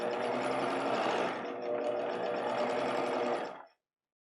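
A sewing machine runs a steady, close stitching buzz through the fabric of a plastic bag holder, with a size 3 stitch length and all-purpose thread, then stops abruptly.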